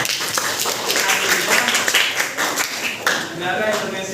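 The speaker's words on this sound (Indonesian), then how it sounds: "Oke, tepuk tangan untuk Satria" A school class clapping hands for a classmate, a mixed scatter of claps and taps over several seconds, with voices talking over it.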